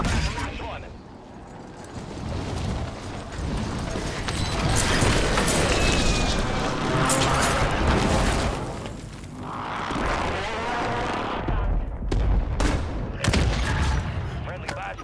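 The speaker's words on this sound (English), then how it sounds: "Friendly precision airstrike inbound." Precision airstrike explosions in Warzone arrive as a dense, sustained barrage of booming blasts and crackling gunfire, loud and continuous, with game voice callouts over the battle.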